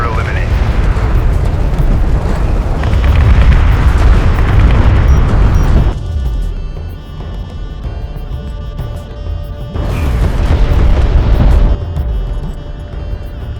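A battle cruiser being destroyed in Homeworld: Deserts of Kharak sends out heavy, rumbling booms that swell in two loud waves, with a quieter low roar between them.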